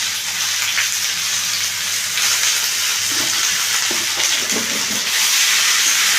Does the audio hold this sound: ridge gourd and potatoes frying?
yes